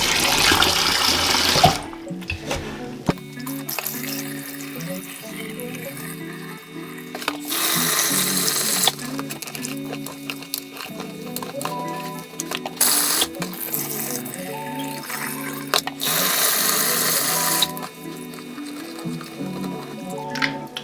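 Kitchen tap water running into a sink while lentils are rinsed for dahl, coming in bursts of splashing flow broken by quieter gaps and clinks as the water is drained and refilled, with no talking.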